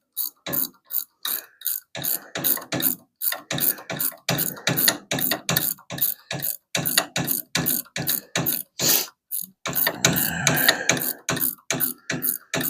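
Ratcheting wrenches turn bolts on a Simplicity Prestige garden tractor during steering repair, giving rapid bursts of clicking strokes in an uneven rhythm, close and fairly loud, with short pauses between runs.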